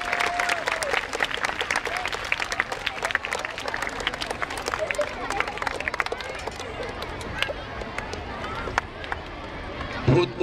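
Children at a school annual sports day clap loudly and continuously amid crowd chatter and outdoor bustle, the applause steady throughout with voices mixed in.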